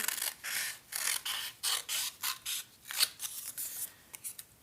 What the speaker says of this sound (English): I'm going to just cut right on the line, turn my paper,